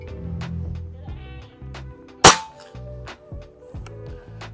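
A single sharp shot from a PCP Ghost Warrior LDT air rifle cracks out midway, sudden and loud, against a quiet background with faint repeating tones and no speech.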